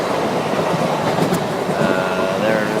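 Inside a moving passenger train travelling from Kolkata to Varanasi, a loud steady rumble and rattle of the carriage runs throughout, with faint background voices and a brief squeal.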